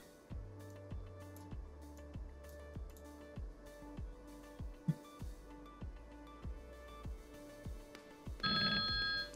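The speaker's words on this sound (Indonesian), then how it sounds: "ada notifikasi suara" An audio alert from The Dude network monitor on a MikroTik fiber (FTTH) network, triggered by a cut cable at a distribution point: a repeating electronic ringing pattern of steady beeping bursts, clear and loud, ending in a brighter burst with no talking.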